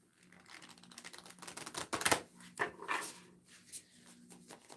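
Tarot cards are shuffled in quick riffling bursts of crisp, close flutter and clicks, with no one speaking.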